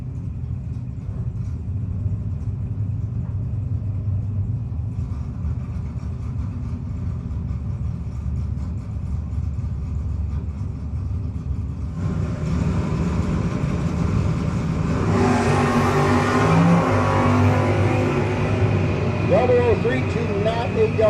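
Drag race cars, among them a Camaro, rumble at a no-box drag racing event; a low idle gives way to a louder roar as the cars launch and race away, under an announcer's commentary.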